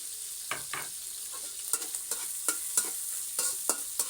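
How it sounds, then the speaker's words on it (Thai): Pork and garlic stir-fried in a pan, a quiet steady sizzle broken by repeated scraping strokes of the spatula in an irregular rhythm, close and alone. "หมูมันเริ่มจะสุกแล้วเราก็ใส่กระเทียม ลงไปผัดเลย"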